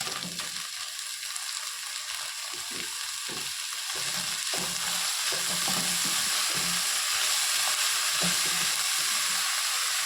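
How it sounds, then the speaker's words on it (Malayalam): Thagara leaves sizzle and fry in a pan while being stirred, a constant loud hiss broken by scraping, clattering stirring strokes up close. "നമുക്ക് ഈ ചപ്പ് ഇതിലോട്ട് ചേർക്കാം."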